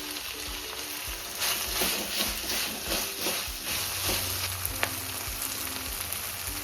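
Green chillies fry in a pan for a paneer butter masala, giving a steady close sizzle with bursts of crackling and stirring scrapes.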